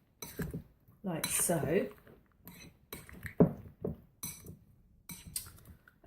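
A spoon clinks and scrapes around a bowl as chia and flax seeds are stirred together, with soft, close tapping against the dish under a woman's speech.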